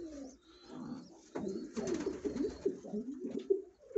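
Vienna flight pigeons coo in a loft where chicks have hatched, giving repeated low, throaty rolling calls that overlap one another at close range, with no talking.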